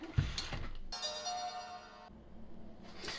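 A telephone rings in a workshop during repair work on a Philips CD100 CD player: one steady electronic ringtone burst of about a second, with faint room noise before and after.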